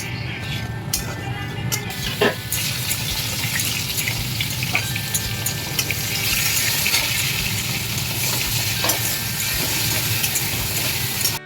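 Onion sizzling in hot oil tempered with bay leaf, a dried red chilli, cardamom and cinnamon while mutton curry is cooked: a steady, dense frying hiss that holds close and even throughout, with a few faint knocks.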